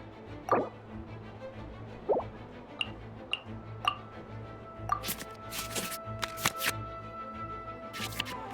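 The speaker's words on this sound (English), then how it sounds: "we can select any number of cards in our hand to shuffle back into the draw pile" Cards are shuffled back into a draw pile in the Genshin Impact card game: a series of separate soft plops and clicks, then bursts of brighter swishing card sounds, with no voices.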